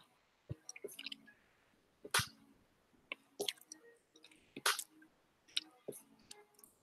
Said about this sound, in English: Might hear me chewing. I'm eating a piece of cheese.